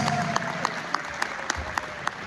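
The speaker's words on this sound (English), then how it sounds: "Let's give him a round of applause" Audience applause for Nana Osei Boache Yadon, the Atabiru Ambassadorial Chief-elect for Canada, at a live ceremony: steady crowd clapping with regular sharper claps standing out above it, and a faint sustained tone in the background.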